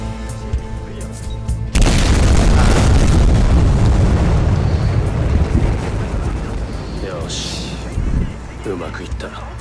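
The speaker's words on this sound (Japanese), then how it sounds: "爆発までもう時間がない。" A big explosion in the video game Battlefield Hardline, set off at a drug lab, erupts suddenly with a loud booming blast that roars and rumbles for several seconds before trailing off, with a few smaller bursts near the end.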